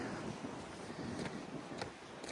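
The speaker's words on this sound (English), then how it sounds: "it's like super windy today." Strong wind gusting outdoors, near an orchard and a guest parking area. It makes steady, close rushing and buffeting noise against the microphone throughout, with no voices.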